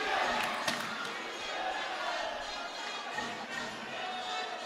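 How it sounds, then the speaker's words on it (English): Dense, steady basketball crowd roar fills a Taguig gym during an NBL President's Cup semifinal game, with a sharp bounce or slam near the start and constant murmur and cheering throughout. "this crowd here in the June Duenas gym in Taguig is alive"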